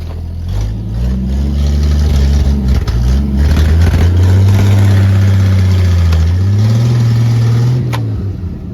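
A 1968 Ford F500 truck engine rumbles close and loud as it drives forward, its deep growl rising and falling in pitch with throttle changes and no talk over it.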